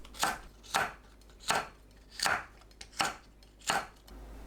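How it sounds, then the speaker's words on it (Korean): Green onion and cheongyang chili are sliced on the diagonal, giving six evenly spaced knife thuds on a cutting board at a relaxed pace, close by and with no talking. "파, 청양고추를 어슷 썰어주세요"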